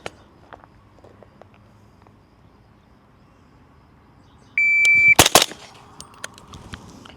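A rifle fitted with a Geissele clone trigger fires a quick close pair of sharp, loud shots on an outdoor range after a long quiet stretch. A timer beep comes just before them, and one or two fainter reports follow.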